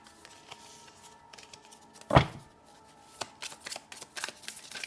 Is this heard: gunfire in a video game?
no